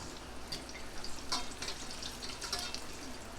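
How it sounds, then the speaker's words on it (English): Banana fritters frying in hot oil for a Jamaican recipe, giving a steady soft crackle and sizzle heard up close, with a few sharper pops scattered through and no talking. "fry until the bottom of the fritters are brown"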